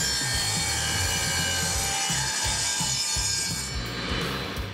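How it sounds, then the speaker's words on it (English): A table saw slices a compound miter cut through wood, its steady motor whine running under a loud, rough, rhythmic grinding of blade through timber, close by and with no talking. "that is a compound miter cut on a table saw"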